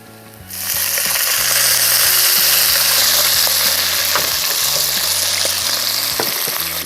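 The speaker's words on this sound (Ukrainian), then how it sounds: "Бекон почав активно смажитись." Bacon sizzles and crackles steadily in a hot pan, a loud continuous frying hiss with small pops throughout.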